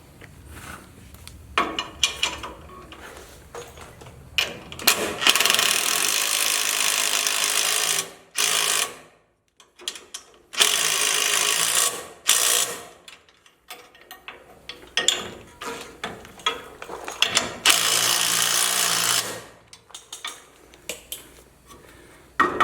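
A ratchet with an 11/16 socket tightens a bolt on a Jeep Cherokee Chief leaf spring shackle, heard as close, loud bursts of rapid clicking separated by short pauses.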